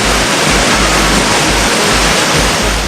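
Floodwaters of the swollen Bhagirathi river surge in a loud, continuous roar of rushing waves, dense and unbroken throughout with no voices.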